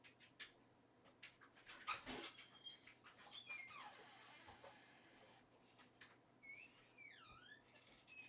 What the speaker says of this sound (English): my dog is being insistent that I pay attention to her